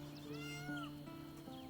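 Cat in Baldur's Gate 3 meowing several times in short, rising calls over a steady hum of background game music, close and fairly clear with no talk.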